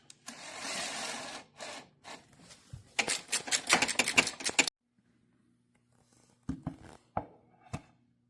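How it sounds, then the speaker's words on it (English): Screws, nuts and washers being tightened while fitting a LilliPad Marine step on a boat: bursts of scraping, clicking tool and metal contact, a dense run early on, then silence and a few sharp knocks near the end. "Going to go through this tightening process for all the screws."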